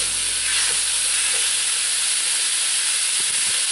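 Fresh sweet sausage fries in a cast iron pan, giving off a loud, continuous close-up sizzle and hiss with no pauses and no talking.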